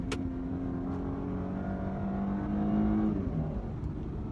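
Genesis G80 accelerating with paddle shifts, a steady rising engine drone heard from inside the cabin that climbs, then drops as a gear changes, smooth and moderately loud.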